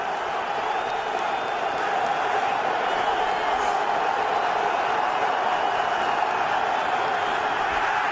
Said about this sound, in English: he's got the whole crowd going crazy.